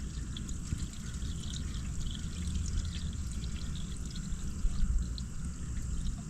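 Coolant being poured into the cooling system of a Datsun 240Z that sat wrecked for 30 years, a steady broadband liquid pour and trickle running continuously at a moderate level with no talk.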